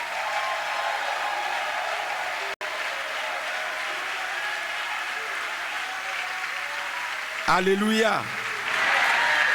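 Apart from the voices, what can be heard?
congregation applauding and cheering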